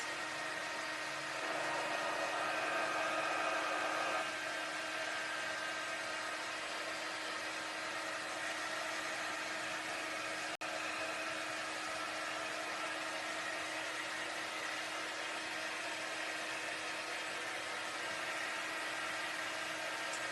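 A hair dryer runs steadily to dry permanent ink on a fabric Christmas pillow cover, a constant whooshing blow heard close and alone for the whole stretch with no talking.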